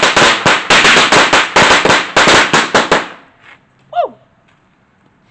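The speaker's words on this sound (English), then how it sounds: "And I'm totally going to throw a firecracker and an M80." A rapid string of loud firecracker pops bursts outdoors for about three seconds, crackling in close succession, then stops; a single voice whoops afterward in the quiet.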